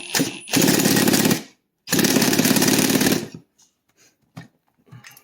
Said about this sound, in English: use a drill to spin the flywheel